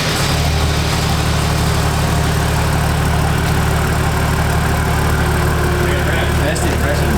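A straight-piped 1HDT Landcruiser diesel with a 3-inch exhaust idling, a loud, steady low rumble with constant throbbing harmonics and no pauses.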